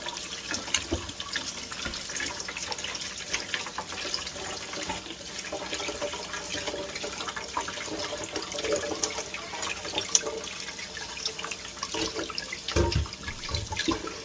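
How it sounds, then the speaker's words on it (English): Running water streams steadily over washed-flour seitan dough being rinsed by hand, a continuous splashing tap flow with occasional louder gushes, no voices. "So we're just going to dump this. And we're just going to keep rinsing this dough."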